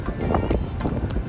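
Strong wind buffeting high on Velep mountain, a loud, steady rush with gusty swells and rumbling noise across the microphone, no voices.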